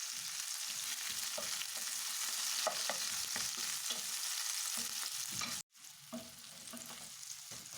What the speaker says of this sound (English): on the same pan, I'll add onions and saute them on a medium heat